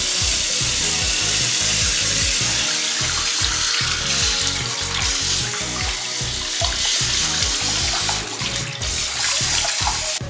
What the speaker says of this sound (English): when you're rinsing out your hair